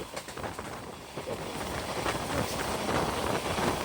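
Rupashi Bangla Express train running onto a ballastless viaduct section near Mawa, a steady broadband rumble and rushing wind noise throughout, fairly loud and continuous with no talking.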